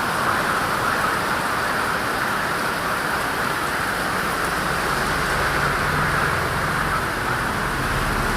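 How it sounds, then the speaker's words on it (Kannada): Heavy rain with big drops falls steadily, a dense, even hiss close by that holds without pause and has no voices over it. "ಬೆಳಗ್ಗೆಯಿಂದ ಮೋಡ ಇತ್ತು, ಮಳೆ ಬರ್ತಾ ಇದೆ."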